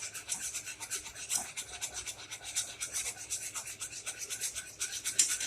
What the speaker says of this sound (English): Just whisking it in, and do that until all your flour is gone.